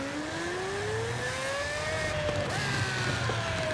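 A Pagani Huayra with a naturally aspirated engine revs steadily, its pitch climbing in a smooth sweep and then easing, a sustained tonal roar heard from a moderate distance with no talking.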